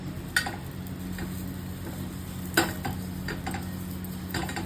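Onion dosa cooking on a hot pan, a steady low sizzle with occasional sharp ticks and scrapes of a utensil against the pan, close and fairly quiet.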